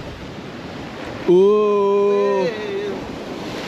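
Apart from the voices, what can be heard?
wind blowing by the sea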